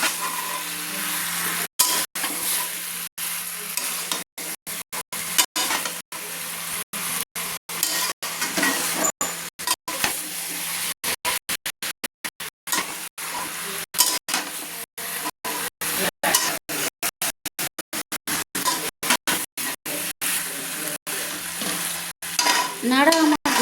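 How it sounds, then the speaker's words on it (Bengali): Chicken and fried potatoes stirred together in a hot pan while being sautéed, a loud close sizzle broken by many rapid scraping and clinking strokes of a spatula. "চিকেন আলুগুলো একসঙ্গে কিন্তু আমি কষিয়ে নেব, একটু নেড়ে দিচ্ছি।"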